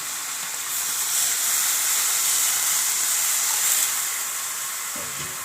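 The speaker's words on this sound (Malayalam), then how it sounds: "ഇനി അതിനകത്ത് കുറച്ച് വെള്ളം ഒഴിച്ച് കൊടുക്കാം" A steady loud hiss and sizzle as water is poured into a hot pot, swelling briefly and then settling, with no voices.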